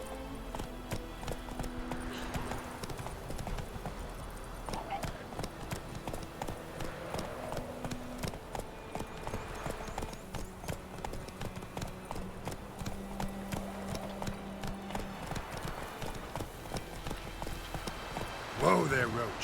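Hooves clip-clop steadily as the horse Roach trots in a video game, a continuous rhythmic patter beneath game music and spoken dialogue, with a brief louder rustle near the end.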